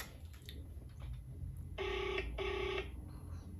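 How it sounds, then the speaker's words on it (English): A phone call ringing out unanswered, two electronic ring tones in succession over a quiet indoor background, with no one speaking. "Now we are calling Tangeli."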